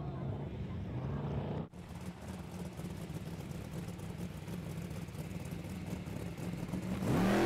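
A jet sprint boat at a jetsprinting championship in New Zealand: loud continuous engine roar at full throttle with a brief dropout, then sustained high-throttle whine building toward the end, heard from nearby.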